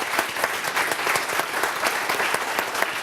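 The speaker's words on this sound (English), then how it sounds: "So big round of applause for all the organizers for today and all of you." A crowd at a university book launch event claps steadily for the organizers, a dense, even burst of applause with no voices over it.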